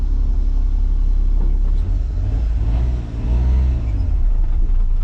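A Japanese Kei mini truck pulling away in first gear, a low engine rumble that swells and eases around the middle, with no voices.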